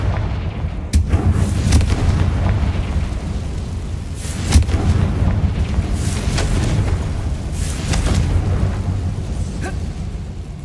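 Repeated booming blasts from the Confringo fire spell in the game Hogwarts Legacy, several sharp bursts spaced a second or two apart over a constant low rumble.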